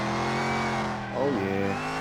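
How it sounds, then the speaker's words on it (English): A 1965 Chevy Impala project car built from used parts revs hard and spins its tires, a sustained loud engine roar with a rising pitch sweep near the end, close by, with a voice briefly over it. "Let's see if she'll spin the tires."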